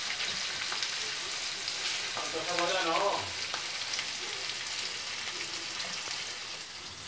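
Onion frying in a pan sizzles steadily up close, with a brief burst of louder spattering partway through and no voices.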